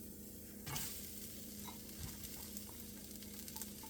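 Rice tipped into a hot wok for dried scallop egg white fried rice gives a burst of sizzle near the start, then a steady background frying hiss with a few scraping stirs, no talking.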